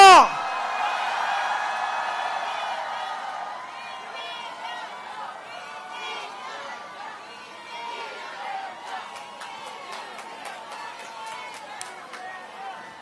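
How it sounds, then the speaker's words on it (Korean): A crowd at a political rally in Suncheon, South Korea, roars with cheers and whoops, loud at first and then settling into a lively babble of voices, with rhythmic clapping near the end. "함성"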